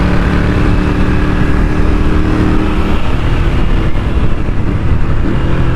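A touring motorcycle engine with a cable throttle roars loud and close, holding a steady, throaty drone without pause for the whole stretch.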